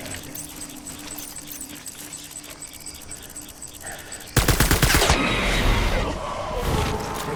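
Bursts of automatic gunfire in the video game Death Stranding, a rapid loud rattle starting partway through after a quieter ambient stretch, close and continuous to the end.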